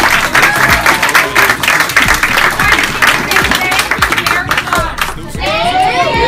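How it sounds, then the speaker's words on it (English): Crowd applause at a community music event in Compton, loud rhythmic clapping mixed with cheers and shouts, thinning out near the end as a voice comes in. "One more round of applause."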